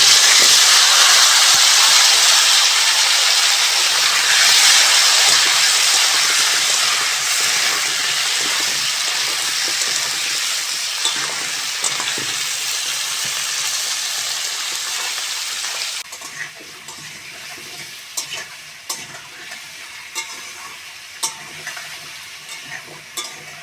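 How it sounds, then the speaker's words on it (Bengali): Sweet potato and pumpkin pieces fry in hot oil with five-spice tempering, giving a loud, continuous sizzle that gradually fades, then gives way to scattered stirring clicks and scrapes in the pan. "মিষ্টি আলু আর কুমড়ো ভালো করে ভেজে নিয়েছি"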